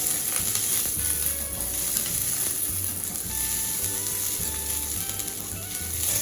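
Chopped onion frying in a pan for Indian-style vegan pumpkin curry, a constant close hissing sizzle with light stirring sounds underneath, no speech.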